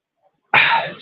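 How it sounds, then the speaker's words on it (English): A single sharp sneeze from an adult man bursts out abruptly after a moment of silence, loud and close, then trails off quickly. "I was going to sneeze"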